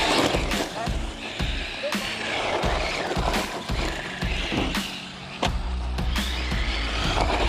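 PD Racing TK-16 RC truck bashing around outdoors, with repeated sharp thumps and clatters from jumps and landings over a steady motor whine, loud and close throughout, with a person talking over it.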